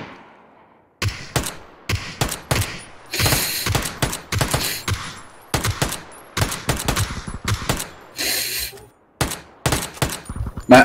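Gunfire in the battle-royale game PUBG crackles in repeated loud bursts of rapid shots, broken by short silent gaps and clanking mechanical clatter.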